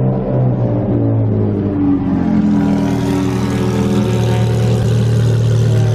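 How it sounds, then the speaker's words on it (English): A Ferrari race car engine rumbles and revs steadily, its pitch climbing as it accelerates, loud and close. "There's a race car here, legit Ferrari race car."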